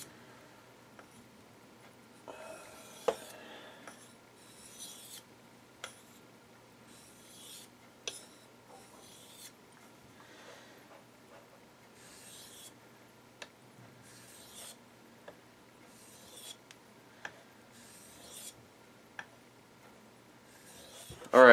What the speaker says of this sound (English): I just finished sharpening the knife with the 6000 grit stone